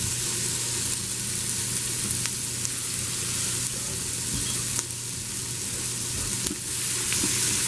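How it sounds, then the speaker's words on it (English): Chopped onion sautéing in melted butter in an Instant Pot on its saute setting, a constant close crackling sizzle with occasional utensil taps and stirring scrapes, no talk. "I've got about a tablespoon of butter melted into my Instant Pot, and it's on saute. So to this I'm going to add some onion."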